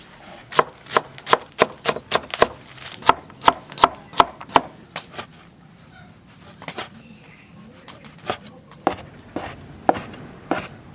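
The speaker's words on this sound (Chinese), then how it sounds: "把这些全部先切碎。" Pickled pork, bok choy and potatoes are chopped with a knife on a board in a home kitchen, sharp close strikes in quick rhythmic runs, then slower scattered chops after a short pause.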